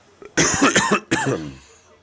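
A single sharp cough right at a microphone, loud and close, followed by a short second burst trailing off.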